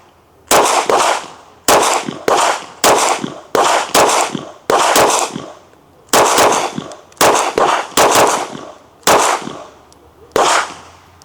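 Pistol shots ring out at a shooting range from about 10 yards, roughly a dozen sharp, loud cracks fired in an uneven rhythm with short pauses between them.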